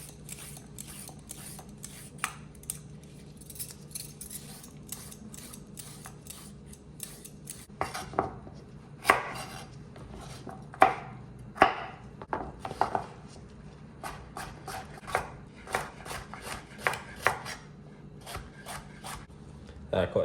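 A knife cuts peeled carrots on a board for fish soup, irregular clicks and taps that cluster into quicker bursts of cutting midway, close and fairly quiet with a low background hum.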